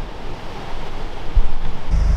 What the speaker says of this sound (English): this lock is so leaky that there's just as much water coming in as there is going out.